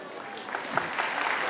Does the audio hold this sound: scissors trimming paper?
no